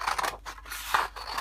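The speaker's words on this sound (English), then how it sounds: "So the first thing I'm going to do is just cut into my paper" Scissors snip and slice through a brown paper bag in a few quick, crisp cuts with a papery rasp, close up and alone.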